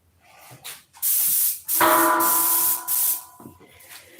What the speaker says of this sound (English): I'm only airbrushing.